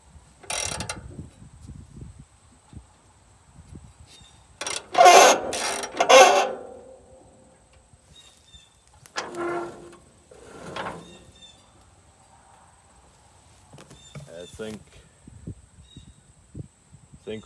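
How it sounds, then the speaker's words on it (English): Dirty bolt threads on a Gleaner L2 combine squeak while being turned during head drive belt adjustment, heard as a few separate ratcheting squeals and creaks with quiet gaps between them, close up, with no talking. "The reason these threads are making noise, not because there's a bunch of force here, but just they're dirty."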